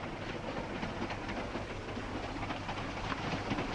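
A passenger train runs along the rails with a steady, continuous rumble and hiss, like riding aboard a 1940s train bound for Washington, sustained at an even level throughout and ending in a brief louder knock.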